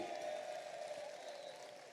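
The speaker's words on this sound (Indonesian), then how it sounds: "Berdiri Kodari, tepuk tangan nih, begitu." A seated audience at a government coordination meeting claps in a soft, distant wash of applause, steady and fading slightly, with a faint hum underneath and no clear talk.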